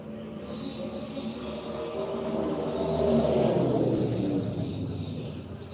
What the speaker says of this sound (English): So here comes the Camry to finish out his third lap.